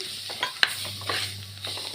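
Tomatoes tipped into sizzling masala in a pan while cooking a Kerala fish curry with koori catfish: a soft splash and clatter, then a steady close frying hiss with faint stirring scrapes.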